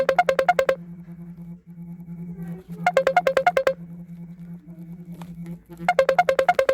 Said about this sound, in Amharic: ስልክ እየደወል እስኪ ማን ነው?